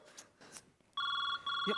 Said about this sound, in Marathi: मम्मीचा फोन आहे